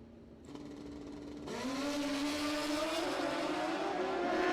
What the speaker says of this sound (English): Brings up Joe Clevey in the strange lane on his 73 Kawasaki